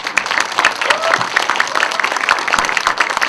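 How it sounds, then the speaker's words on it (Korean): Audience applause for a film's director and actors at a screening Q&A, a steady patter of many hands with sharp individual claps standing out near the listener. "감독님과 배우분들을 앞으로 뭐 열심히 활동하시라고 박수 좀 부탁드리겠습니다"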